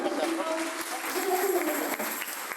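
Audience applause at a Spanish-language book presentation, a dense, even patter of many hands at moderate volume, with some voices mixed in.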